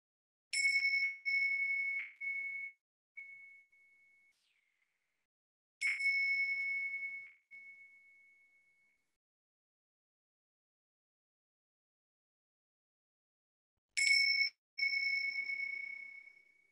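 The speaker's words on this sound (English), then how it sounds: "as you hear the sound of the bells" Meditation bells ring out in three separate clear strikes, each tone sustaining and slowly fading into silence, with long quiet gaps between, close and fairly soft.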